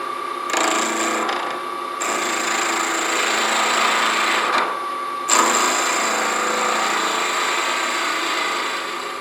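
A wood lathe turns a wooden pen blank, its speed raised from 500 RPM toward a couple of thousand. A steady, close whirring drone is broken by short gaps and surges as the cutting tool meets the wood.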